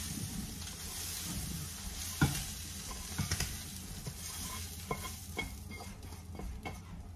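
Chopped potato and ham frying in a pan for breakfast, a steady sizzle with a few sharp stirring scrapes and clacks of a utensil against the pan, close up and moderately quiet.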